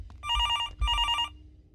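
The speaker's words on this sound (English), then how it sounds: "We got another phone call." A telephone rings twice in a motel horror video game, two loud electronic bell bursts of about half a second each with a short gap between, alone with no talk.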